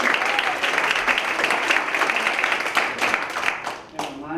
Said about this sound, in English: Please clap for the next comedian.